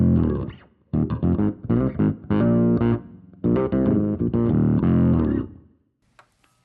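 An electric bass through a Fractal FM3 with octave and fuzz effects produces a gritty, synth-like bass line of clipped notes and sustained phrases, up front and unaccompanied, fading into a short quiet tail.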